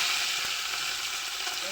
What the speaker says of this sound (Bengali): চুনো মাছটা ভাজছি, চুনো মাছের ঝাল করবো।